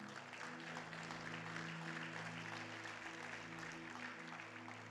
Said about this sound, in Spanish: Un fuerte aplauso, Señor.